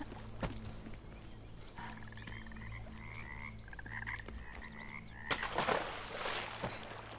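A frog croaks repeatedly in the fairy-tale game Bramble: The Mountain King, steady rhythmic calls over a low droning forest ambience, with a louder rustling burst near the end.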